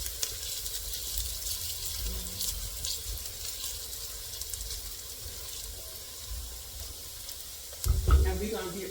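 Onions and garlic fry in a hot pan with a steady, soft sizzle. A brief louder clatter of stirring comes near the end.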